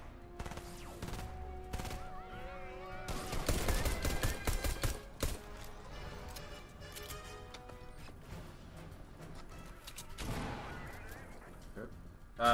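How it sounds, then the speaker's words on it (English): Dense game-audio explosions and gunfire-like bursts in a Fortnite heist mission, loud clustered blasts around the middle and end over continuous background game sound and music. "I couldn't tell from all the explosions."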